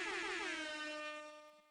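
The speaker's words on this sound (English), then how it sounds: "I did the air horn for myself." A loud air horn sound effect sounds once, a single sustained blast that slowly fades over nearly two seconds, with nothing else audible.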